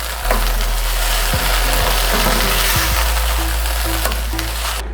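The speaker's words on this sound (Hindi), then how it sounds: "चने डाल के अच्छी तरह मिक्स कर लेते हैं इसमें ताकि सारा मसाला मिक्स हो जाए।" Boiled white chickpeas are stirred into sizzling masala in a pan, a loud, continuous frying hiss with scraping knocks of the spoon against the pot.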